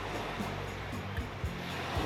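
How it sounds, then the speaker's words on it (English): Ocean waves break and wash on a beach beside a campsite on the Norwegian coast between Senja and Andøya, a constant loud roaring surf with a few deeper thumps of surging water, nearby, with no voices. "It's loud from the Waves."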